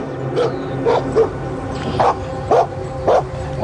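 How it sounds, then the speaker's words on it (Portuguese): A dog barks repeatedly, six or seven short, sharp barks spaced unevenly, fairly close and loud. "De repente, o cachorro começou a latir."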